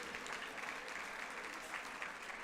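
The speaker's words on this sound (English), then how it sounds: "please give them a big round of applause" An audience at a gratitude event gives a round of applause, a steady wash of many hands clapping at once, sustained and fairly faint throughout.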